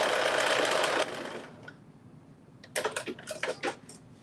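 A sewing machine stitches a seam with a rapid, even whirring run for about a second, then stops, followed by a few close mechanical clicks and handling taps.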